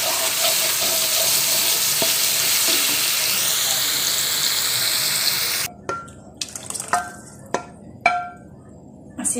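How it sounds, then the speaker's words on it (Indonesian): Ground spice paste sizzles in a hot pan with a dense, steady frying hiss. It then cuts to quieter stirring, with scattered spoon clinks and scrapes, close up. "Kita tumis bumbu halus sampai matang, lalu kita masukkan ke kuahnya ya."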